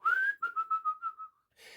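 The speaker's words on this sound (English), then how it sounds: "all you ever hear is every few seconds is that whistle" A whistle from a Star Wars ride scene rises in one long note and then wavers through a quick run of short, falling pulses before cutting off. It is clear and sounds alone.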